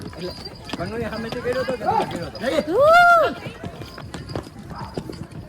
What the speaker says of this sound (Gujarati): મારો ઘોડો ઘોડો થોડી વાર થાકે હોય એટલે ધીરે ધીરે ચાલે